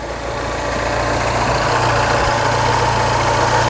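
A Mini Cooper R56 with the N14 engine idles steadily after an oil leak repair, giving a loud, close, even hum with a low rhythmic pulse that continues until it cuts off abruptly.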